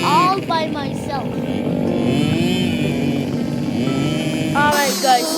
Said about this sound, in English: I'm driving the ATV all by myself.